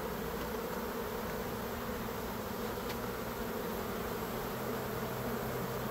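Dense, unbroken buzzing from a honey bee swarm fills the air at close range, many wings humming together at an even level with no speech.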